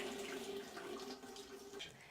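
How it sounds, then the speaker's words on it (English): Water runs steadily from opened household taps being drained, a soft continuous rush with a faint tonal hum, fairly quiet and with no voices. "Next, turn on the taps and drain the water."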